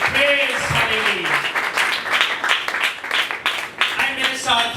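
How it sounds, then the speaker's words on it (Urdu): A church congregation claps loudly together, dense rapid applause filling the space while a voice speaks over it at the start and again toward the end. "زوردار تالیاں بجائیں گے"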